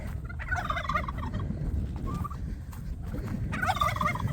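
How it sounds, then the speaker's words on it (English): A flock of backyard poultry makes a busy, continuous racket of gobbling, clucking calls, close by and fairly loud, with bursts of chatter rising and falling throughout. "Hey, chicken. Hey, chicken. Oh, my goodness. You're so noisy."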